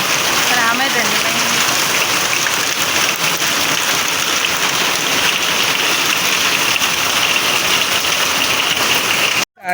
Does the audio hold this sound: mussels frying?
no